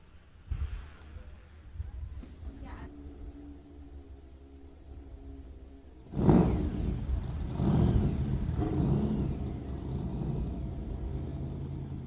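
Street race cars at a West Coast Outlaw Street event: a low engine rumble and idle, then a sudden loud roar as a car launches and accelerates, sustained heavy engine noise afterward, heard from moderate distance.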